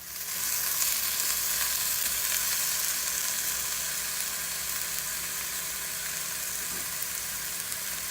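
Garlic frying in a pan aboard a boat, an even, close hiss of sizzling oil that carries on steadily without talk, with a low engine-like hum underneath.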